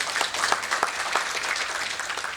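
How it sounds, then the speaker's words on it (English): Audience applause at a lending-technology panel event as a guest comes on stage, a steady mid-level wash of clapping from a room of people with no talk over it. "Can we have a huge round of applause for Mr. Anshuman, please?"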